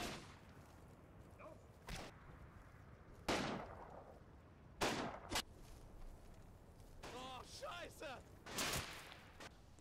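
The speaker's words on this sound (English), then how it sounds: "A German heavy machine gun is spotted on the right" German heavy machine gun in a Combat Mission Normandy battle, several sharp distant bursts and single cracks spread irregularly over quiet ambient background, with other faint battlefield noises between them.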